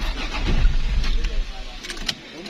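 A Toyota Corona engine cranks and catches nearby, a low rumble swelling briefly before settling into a steady idle.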